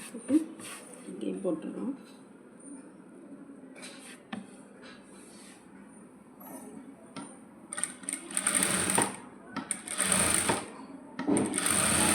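A sewing machine runs in short bursts, stitching a tacking seam on a coat. It whirs loud and close, stops and restarts between the bursts, and a person talks in the gaps.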